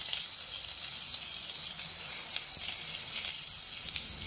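Chopped ginger and garlic frying in a pan for dal khichdi, giving a steady close hiss and sizzle that continues evenly throughout with no talking.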